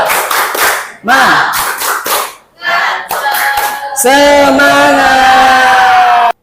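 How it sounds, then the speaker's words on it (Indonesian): A group performs a rhythmic spirit clap (tepuk semangat), bursts of synchronized claps broken by short gaps, with voices shouting and chanting along, ending in a long sustained sung or called-out tone. "Sekali lagi, yuk tepuk semangat"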